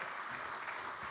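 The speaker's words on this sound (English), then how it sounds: "Let's give these guys a big round of applause" Applause from a conference audience, a faint, even wash of many hands clapping at a distance, steady with no standout claps.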